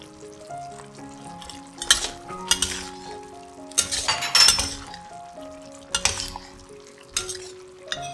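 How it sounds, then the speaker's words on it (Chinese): Chili peppers stir-fried in a wok for a vegetarian Fuzhou-style hot and sour dish, with bursts of spatula scraping and clinking against the pan over steady low sizzling, close and fairly loud, no talking. "放入辣椒，炒一炒。"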